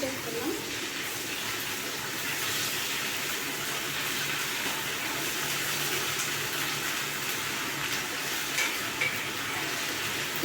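Ginger garlic paste fries for chicken biryani, a constant close hiss of sizzling oil with faint stirring and no break.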